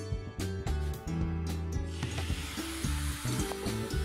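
Grated coconut, sugar and water are stirred together in a pan, making soft bubbling and sizzling with light scraping, under steady background music.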